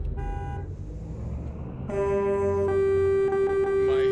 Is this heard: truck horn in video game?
yes